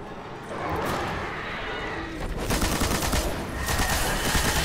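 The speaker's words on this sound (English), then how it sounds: "Time to use my heavy weapon." Heavy weapon firing in Destiny, rapid repeated shots pounding over dense combat noise, growing louder and more continuous in the second half.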